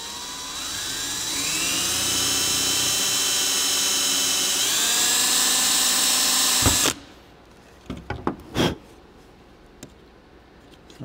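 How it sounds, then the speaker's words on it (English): A small drill whines as it spins up to a high, rising pitch and runs for several seconds, then stops, followed by a few light clicks. "I'm gonna drill a tiny little hole here"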